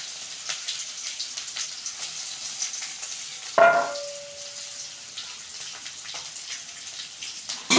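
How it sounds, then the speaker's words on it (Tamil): Chopped onions sautéing in a pan with dried red chillies, a light steady sizzle broken midway by a sudden louder burst as they hit the hot oil, then settling back. "இப்போ கட் பண்ணி வச்சுருந்த வெங்காயத்தை போட்டு நல்லா வதக்கிக்கலாம்"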